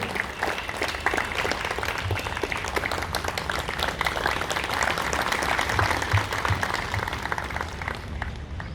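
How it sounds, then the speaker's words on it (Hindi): Steady, loud audience applause welcoming a guest at an International Day of Yoga event at Central Jail Indore, dense clapping from a large crowd sustained throughout without a break. "आप सभी से आग्रह है कि उनका ताली बजा करके स्वागत करें।"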